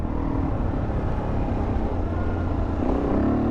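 Suzuki DRZ400 dual-sport motorcycle engine on a sandy off-road track, a steady buzzing drone that rises in pitch near the end as the throttle opens, close and continuous with no talk.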